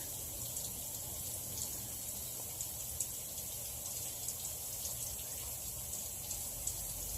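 High pressure water flowing steadily through a ClearSource water filter, a constant broadband hiss and rush with faint bubbling ticks, no talk.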